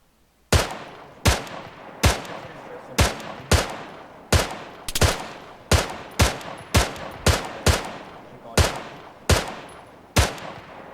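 Loud single gunshots ring out one after another at irregular intervals, about fifteen sharp reports with short echoing tails, during a military simulation session in the video game ArmA 3.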